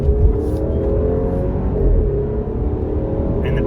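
An Alfa Romeo Giulia Veloce accelerating up a highway on-ramp, heard from inside the car as a loud, steady engine and road drone that holds continuously without a break.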